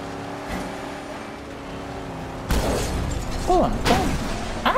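Car engine in the Mad Max video game, rumbling steadily and then picking up with louder bursts as the car starts moving, with a few other mechanical noises over it.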